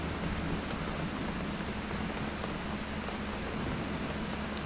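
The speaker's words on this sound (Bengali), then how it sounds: "যে এরকম বৃষ্টি পড়তেছে" Steady heavy morning rain pours down without pause, a dense even hiss of drops drumming on surfaces close by, with no voices over it.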